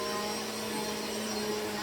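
A Bissell PowerForce Helix Turbo Pet upright vacuum cleaner runs steadily nearby, giving a constant droning whine with a broad airy rush and no breaks.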